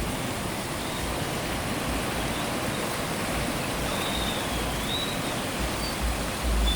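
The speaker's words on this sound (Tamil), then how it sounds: "மழை தண்ணி எப்படி போகுது ஓடி." Rain floodwater rushes past a road bridge in a steady, dense roar of churning water, with no voices over it.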